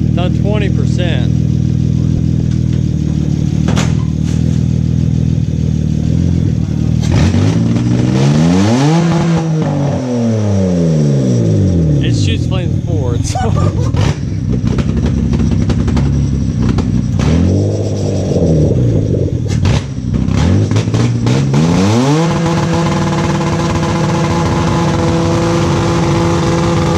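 A car engine running on oil swapped for Mountain Dew revs hard on a 20% nitrous shot, a loud, close roar that sweeps up and down in repeated pulls before settling into a sustained high howl, with occasional shouting over it.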